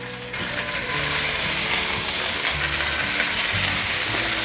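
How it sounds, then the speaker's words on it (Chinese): Black-pepper-sprinkled vegan toast snack pan-frying in a little hot oil: the sizzle swells after the first second into a loud, steady crackle close by, with faint clinks of the pan and no voices. "油热了，放进来煎。"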